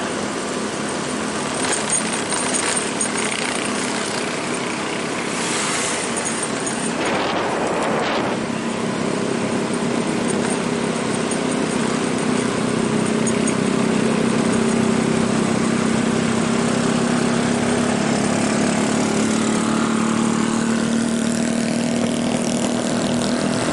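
Motorcycles, including Honda CB bikes, run along the Gumitir mountain road in the afternoon, a continuous loud engine drone whose pitch climbs steadily toward the end as one passes, with no talking.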